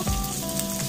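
Onion and ginger sizzling in hot oil in a pan, a brief crackling hiss with soft spattering pops, close and steady.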